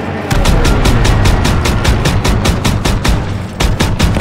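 Rapid, sustained gunfire from World War II weapons in the video game Call of Duty WWII, a loud continuous burst of repeated shots with a heavy low rumble beneath, no talk.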